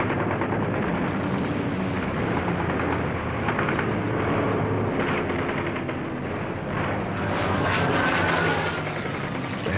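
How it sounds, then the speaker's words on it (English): WWII Hellcat fighter engines in flight during Pacific air combat: a loud, continuous droning roar filling the whole stretch, with rattling bursts like gunfire mixed in and no voices. "The Hellcat dominates the sky."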